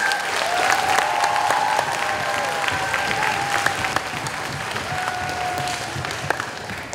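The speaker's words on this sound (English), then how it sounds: "Give them one final round of applause" Sustained applause from an audience at an intermediate school leadership awards program, a dense steady patter of many hands with a few whoops or tones over it, continuing without a break.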